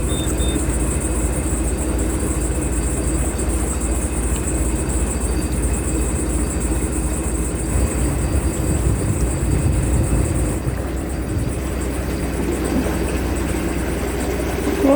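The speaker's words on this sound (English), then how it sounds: "Going to fire the engine up and we're on our way to Hotwas." Boat engine running at a steady idle, a continuous low rumble with a constant hum and faint higher whine, unchanging throughout with a slight shift near the end.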